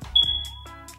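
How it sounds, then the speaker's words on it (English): A household smoke detector in a room gives one sharp, high electronic chirp, fairly loud and close, followed by a quiet room hum with no talking. "So if you hear the smoke detector"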